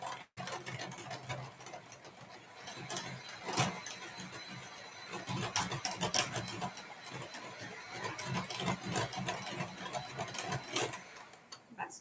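An electric mixer whirs through eggless mawa cake batter in a bowl, a close, uneven buzzing with rattling bursts as the beaters knock about, running without any talk.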